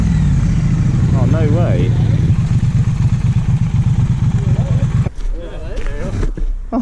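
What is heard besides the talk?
motorcycles, Triumph Street Twin, engines idling and revving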